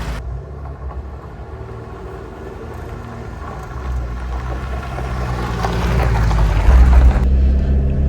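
A 1977 Alfa Romeo Alfetta 2.0 GTV driving, its engine a steady low drone with wind and road noise that swells louder toward the end as it accelerates, no talking.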